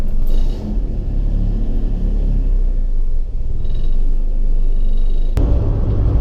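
A 1990 Honda Civic DX fitted with new coilovers rolling along a road, heard from inside as a loud, continuous low rumble of engine and tyres with occasional bumps and a sharp knock near the end.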